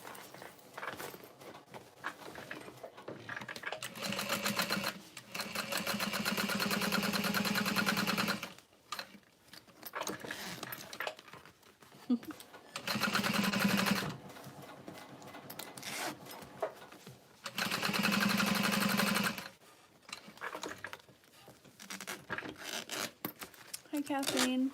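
A Juki TL 2000 QI sewing machine top stitching a tote bag panel, running in several sustained bursts of rapid, close mechanical whirring separated by pauses, with speech in the gaps.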